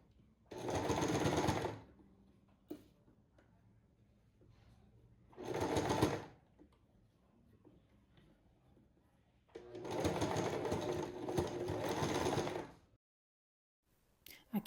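A sewing machine stitches lace onto an old blouse in three separate runs of rapid, even needle chatter, each ending abruptly, with quiet handling sounds in between.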